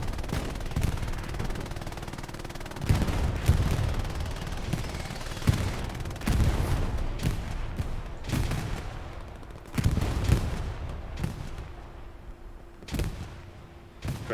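Bursts of mounted machine gun fire and scattered shots in the World War II shooter Hell Let Loose, recurring every second or two over a steady battlefield din, with some blasts close and others more distant.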